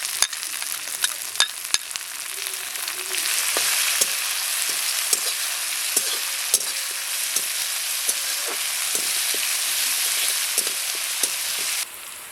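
Garlic and green chili paste fries in a pan with a steady loud sizzle, punctuated by the clicks and scrapes of stirring, no voices.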